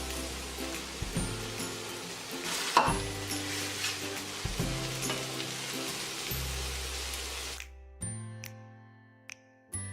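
Chopped leeks sizzle steadily in a hot frying pan, a close crackling fry with a few stirring scrapes, then the sizzle drops away near the end leaving faint pops.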